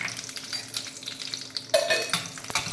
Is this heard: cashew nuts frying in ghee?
yes